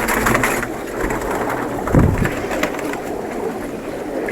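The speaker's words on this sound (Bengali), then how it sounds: "দারুণ কবুতর একটা।" Pigeons in a large cage cooing nearby, low soft coos repeating over a steady background, with one louder burst in the middle.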